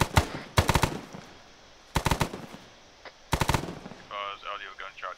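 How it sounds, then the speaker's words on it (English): Bursts of automatic gunfire in the Arma 3 military game, loud and close, firing in three rapid volleys with short pauses between, followed by a burst of crackly radio chatter at the end. "Audio gunshot east."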